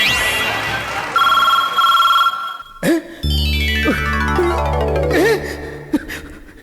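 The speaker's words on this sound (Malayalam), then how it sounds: "ഇത് നാരായണന്റെ ഷാപ്പിലെ ഫോൺ." A shop telephone rings with an electronic, bell-like tone that is loud and steady, then breaks off. Music with descending tones follows, with brief vocal sounds, on a comedy stage show.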